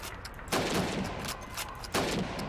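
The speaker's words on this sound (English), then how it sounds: "15 seconds to shoot the helmets. Ready? Go! Shoot the helmets." Video game gunfire from Call of Duty 2 during a timed range drill shooting at helmets, with two loud sharp bursts about 1.4 seconds apart over a constant noisy background.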